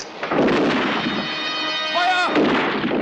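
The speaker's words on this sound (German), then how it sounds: "Kanonen fertig! Feuer!" A loud, sustained roar of a ship's cannons firing, with booming blasts and a tonal whine, filling the clip without pause.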